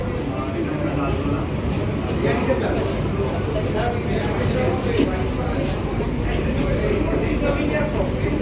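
A Kolkata AC local train runs from Sealdah toward Ranaghat, its low, steady rumble and rattle filling the carriage interior at moderate level without pause.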